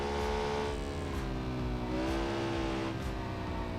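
A car engine in the BeamNG driving game revs and holds a steady, buzzing harmonic drone that rises and falls slightly in pitch, loud and close with no talk over it.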